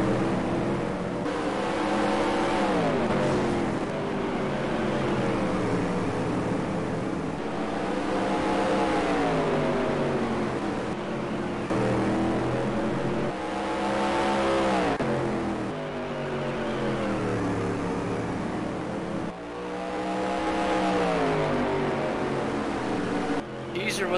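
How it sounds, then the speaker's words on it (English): Supermodified race cars roaring around Sandusky Speedway, a continuous loud engine drone that swells and fades in repeated waves as the cars pass, heard from a distance. "Up front is still Keyser. And Hayduck wide off of turn 2. Gangler, Sears slide by"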